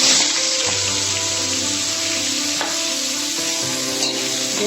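Chopped onion and tomato frying in a hot pan with dried chilies, a steady loud sizzle with a few scraping stirs of a utensil.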